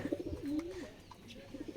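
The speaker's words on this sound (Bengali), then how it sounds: "এই যে আমার দেশি কবুতরের জোড়াটা" A pair of domestic pigeons coo softly outdoors in a few low, rolling calls, faint and fairly distant, with light background noise.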